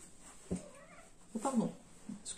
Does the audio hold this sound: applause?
no